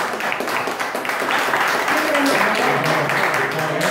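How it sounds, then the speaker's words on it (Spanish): Applause from guests at a house handover ceremony, a steady wash of clapping lasting the whole stretch, with voices talking over it. "Pues de aquí un fuerte aplauso,"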